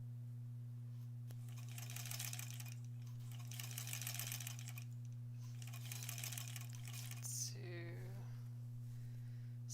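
A sewing machine stitches fabric pieces for a six-inch quilt block in three even runs of a second or two each, with short pauses between, over a constant low electrical hum; a voice speaks briefly at the end.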